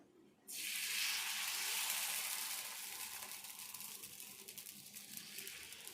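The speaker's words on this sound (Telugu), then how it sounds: "దోశ వేసుకుందాము." Aloo dosa batter, made with onions and green chillies, hits a hot pan with a sudden loud sizzle that settles into a steady, fainter hiss.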